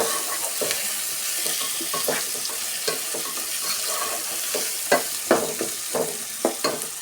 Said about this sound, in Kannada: ಆಯಿಲಲ್ಲಿ ಚೆನ್ನಾಗಿ ಫ್ರೈ ಮಾಡ್ಕೊಳ್ಳೋಣ